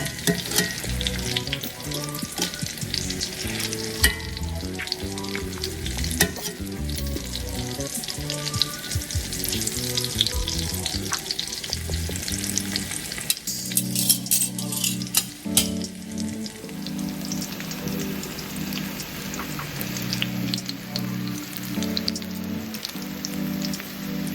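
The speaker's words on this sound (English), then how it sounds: "Make sure when you fry them up, you want to make sure that you get them nice and golden brown" Food frying in a pan until golden brown, a dense crackling sizzle like rain that goes on throughout and shifts in tone partway through as pieces are moved around.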